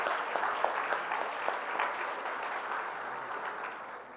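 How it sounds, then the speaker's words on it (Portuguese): A crowd applauds steadily at a political party seminar panel, a dense wash of many hands clapping that holds for several seconds and eases off slightly toward the end. "Salva de palmas."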